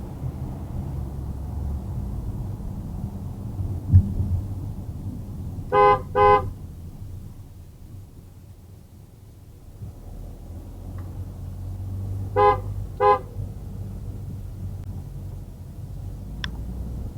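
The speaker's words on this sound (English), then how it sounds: "A good example of the use of the horn to show your presence is given on approach to" Two short double toots of a car horn sound at a humpback bridge approach, each pair clear and moderately loud over a steady low road rumble inside the vehicle, the second pair coming several seconds after the first.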